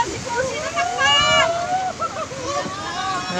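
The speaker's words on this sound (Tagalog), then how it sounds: "Tinatangay kami ng malakas na alon." Strong waves splash and slosh against a small boat's hull in uneven surges while a voice speaks over the rushing sound.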